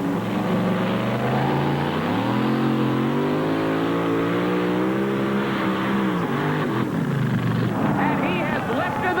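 A 1934 Ford delivery van with a supercharged engine roars loud and steady at a truck pulling event, its pitch climbing, sagging and surging again as the run goes on.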